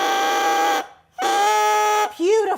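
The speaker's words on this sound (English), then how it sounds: "This is a double reed, so it has basically two blades to it that vibrate against each other to create the sound" A bare bassoon double reed blown off the instrument gives a loud, buzzy, nasal squawk held steady, then a brief gap, a second sustained buzz, and a short wavering crow at the end.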